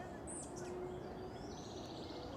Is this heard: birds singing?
yes